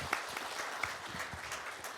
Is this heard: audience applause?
yes